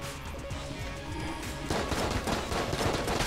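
Shotgun blasts in Enter the Gungeon land as rapid, repeated bursts of gunfire, busier and louder toward the end, over a dense backdrop of game music and effects.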